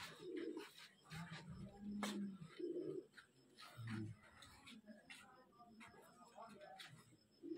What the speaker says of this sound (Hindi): अच्छे बैठे कबूतर